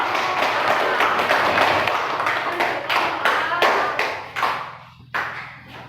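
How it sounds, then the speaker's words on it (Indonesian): A classroom of students claps for a group presentation, close, distinct hand claps that start brisk and fairly dense, then thin into a few separate, louder claps with short pauses between. "tepuk tangan untuk kelompok A"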